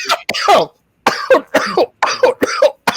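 Several sharp, harsh coughs from smoke in an apartment, in quick bursts, close and loud, with short pauses between them.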